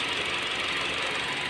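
A Honda Jazz engine idling with one ignition coil unplugged while misfiring, a steady close mechanical hum with a fine knocking texture throughout and no talking.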